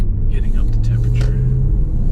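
Hemi V8 engine in a 2006 Jeep Commander at quarter throttle: a steady, deep low rumble that holds fairly constant throughout, with brief higher-pitched bursts of sound over it early on.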